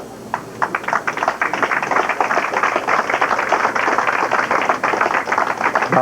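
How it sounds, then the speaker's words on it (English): A crowd at a bowling championship at OC Lanes applauds for several seconds, dense steady clapping from many hands in an indoor lanes hall, with no voices over it. "There's our crowd, Carl. We had a real nice crowd here this afternoon for this championship"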